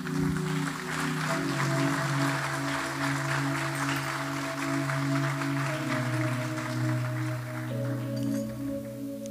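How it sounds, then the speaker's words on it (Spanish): A church congregation applauds during a service, a steady wash of clapping over sustained keyboard or organ chords that hold and shift beneath it. "Denles aplauso al Señor."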